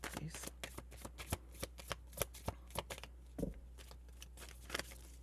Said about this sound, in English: Okay, that's my shuffling.